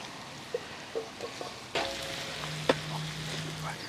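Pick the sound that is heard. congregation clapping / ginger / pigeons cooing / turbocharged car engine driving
ginger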